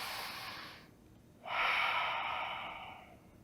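Slow, audible breaths taken during a yoga pose, an airy exhale followed by a pause and then a longer, louder breath, close and alone without speech.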